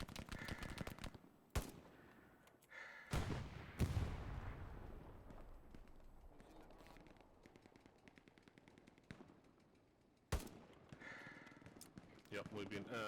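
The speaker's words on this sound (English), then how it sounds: "Back to the Machine gun in this building here" Machine gun fire in the World War II shooter Hell Let Loose, with sharp bursts and single loud cracks scattered across a busy battlefield din, punctuated by heavier booms, while a voice talks over it.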